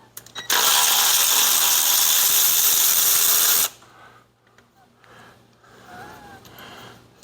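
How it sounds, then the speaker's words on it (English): A 13 mm wrench loosens a bolt near the brake line while Air Lift air bags are fitted on a Chevy 1500. A loud, continuous burst of mechanical noise lasts about three seconds and then gives way to quieter clicks and handling sounds. "So I'm going to grab another 13 millimeter to loosen that up."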